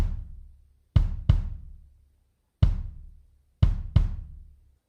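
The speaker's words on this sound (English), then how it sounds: "Punchy timbre always reminds me of a nice rock and roll kick drum like" Five punchy rock and roll kick drum hits, close and loud, in an uneven pattern: two quick pairs and a single, each with a sharp low thump and a short decaying tail.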